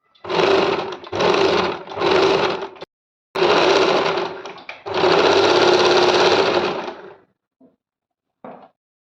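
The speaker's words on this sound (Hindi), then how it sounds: "हम इसको इस तरह से फोल्ड करते हुए सिल देंगे।" A sewing machine stitches a folded kurti neck border in several loud, close bursts of steady whirring, broken by short pauses, with a few faint clicks at the end.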